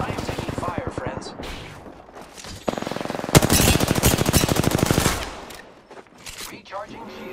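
Rapid automatic gunfire from the video game Apex Legends, with dense bursts of loud shots and a long sustained stretch in the middle, mixed with game effects and a voice talking over parts of it.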